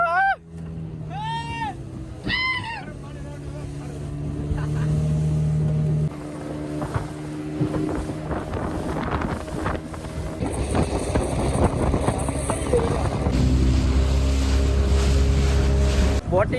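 A motorboat ride on clear blue sea off the Gujarat coast near Dwarka, with engine drone, wind buffeting the microphone and splashing waves, shifting in loudness as the boat moves, and voices briefly at the start.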